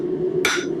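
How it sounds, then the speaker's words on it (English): A single sharp hammer blow rings on hot metal laid on the flat face of an anvil, a crisp metallic strike over a steady background hum. "I'm gonna straighten that out a little bit on the flat of the anvil"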